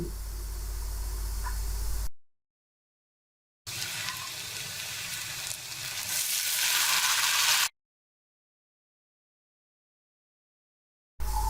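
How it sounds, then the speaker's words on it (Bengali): Onion and garlic cloves frying in a pan with steady sizzling and occasional stirring, heard in two separate stretches with silent gaps between. "এখন দিয়ে দিচ্ছি হাফ কাপ রসুনের কোয়া এরপর নাড়াচাড়া করে মিশিয়ে নিচ্ছি ভেজে নিচ্ছি কিছুক্ষণ"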